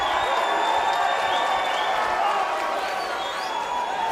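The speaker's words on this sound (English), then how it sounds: "Fans on their feet, cheering on to Crazy Hawaiian." A crowd of fans at a Power Slap event cheers and claps steadily throughout, a dense, loud roar of applause filling the arena with no break.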